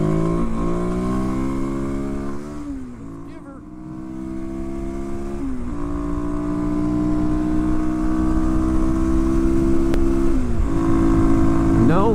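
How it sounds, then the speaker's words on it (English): Kawasaki KLX250 motorcycle engine revving hard in second gear while lifting into a wheelie, a loud sustained buzzing drone that dips briefly then climbs and holds at high pitch, close to the microphone with wind rush. "Another second gear wheelie."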